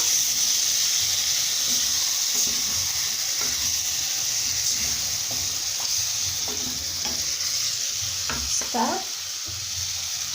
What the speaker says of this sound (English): just a little bit of the unsweetened yogurt, and stir